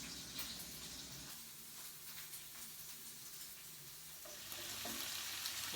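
Beef and bacon frying in hot oil in a pan, a faint, steady sizzling hiss that brightens slightly near the end.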